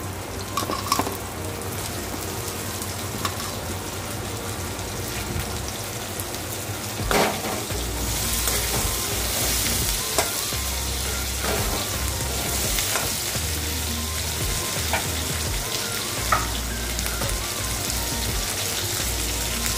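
Onions sizzle and fry steadily in a pan as jackfruit seeds go in, a continuous close hiss with occasional stirring clinks and louder bursts as the seeds hit the oil.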